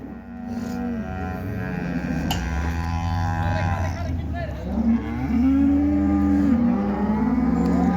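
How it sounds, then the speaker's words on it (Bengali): Cattle, including small cows, moo loudly in long, drawn-out calls on a farm, several overlapping near and far, with people talking faintly in the background. "এইগুলো হচ্ছে ছোট গরু, একদম ছোট গাভী গরু আর কি"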